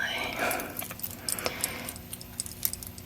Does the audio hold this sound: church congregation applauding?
no